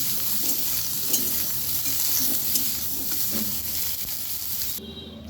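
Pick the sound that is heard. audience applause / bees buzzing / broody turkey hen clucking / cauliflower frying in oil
cauliflower frying in oil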